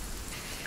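Steady rain falls in the video game Sons of the Forest, a dense even hiss of drops filling the whole moment without any voices.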